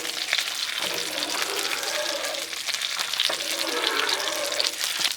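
Bacon sizzles and fries steadily on a Blackstone griddle, a loud, continuous crackle filling the whole stretch, with a few faint scraping or handling sounds mixed in.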